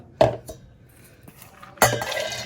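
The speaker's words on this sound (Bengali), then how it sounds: "তো মিক্সিং জারে পুরো ডালটা আমি" Lentils poured into a mixer grinder jar, with two distinct clattering impacts of the grains hitting the container and a brief rattle in between, close and fairly loud in a quiet kitchen.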